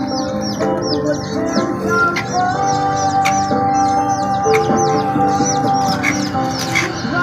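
A flock of chickens clucking and cackling continuously nearby, with ducks present and small birds chirping high over a busy farmyard by a river.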